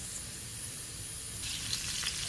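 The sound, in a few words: ginger frying until golden brown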